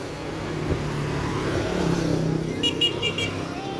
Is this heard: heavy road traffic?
yes